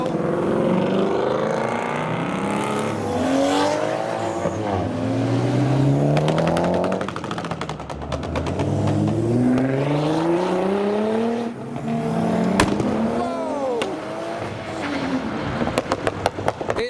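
Several Toyota Mark IV Supras and other JDM cars drive past one after another, engines revving and accelerating loudly, rising and falling pitch as each car sweeps by close, with a steady stream of passes and brief gaps between them.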